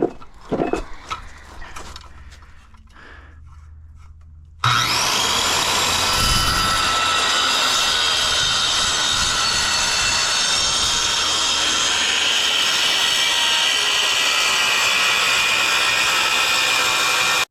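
A power saw cutting into a concrete block wall during masonry repair: a few quieter knocks and rumbles, then a sudden loud, harsh, steady grinding roar that runs unbroken for about thirteen seconds, close up.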